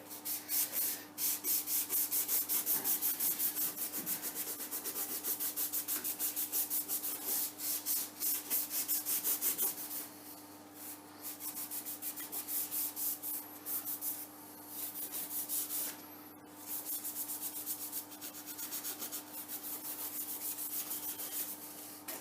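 Steady rhythmic scrubbing of a Scotch-Brite pad across a centre lathe's metal surface during maintenance, close and continuous with brief pauses, over a faint constant machine hum.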